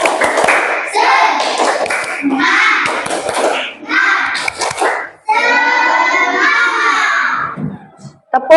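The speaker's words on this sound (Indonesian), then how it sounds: "Tepuk semangat 3 kali." A fourth-grade class of children performs tepuk semangat, rhythmic group clapping in quick patterned bursts mixed with chanting voices, loud and close in a classroom.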